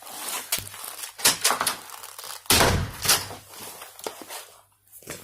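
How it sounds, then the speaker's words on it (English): A door is opened and shut close by with a couple of sharp knocks and thumps, mixed with rustling, shuffling and crinkling handling noises. "I'm gonna open the door and shut it like I've left"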